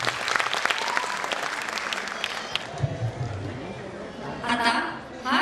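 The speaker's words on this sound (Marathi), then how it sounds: "जोरदार टाळी पुढचे स्वागत करू" A school annual day audience at a pre-primary school claps in a dense burst of applause that fades out, followed by a voice speaking over the quieting hall.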